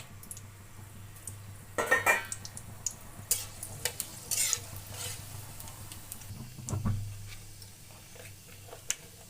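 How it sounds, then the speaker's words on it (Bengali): Panch phoron and whole dried red chilies hit hot oil for a sweet-sour mango pickle, crackling in a few sharp, scattered pops over a faint low sizzle in a quiet kitchen. "দিয়ে দিলাম তেলে পাঁচফোড়ন এবং শুকনো লঙ্কা"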